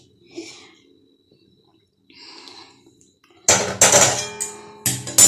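Dishes and pots clink and clang as they are rinsed and set aside, with soft handling sounds first, then louder metallic knocks and clatter toward the end.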